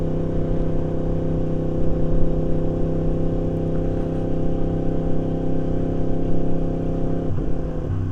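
A motorcycle with an Akrapovic exhaust held at a steady 3,000 rpm in third gear, producing a loud, even engine drone with only slight wavering throughout.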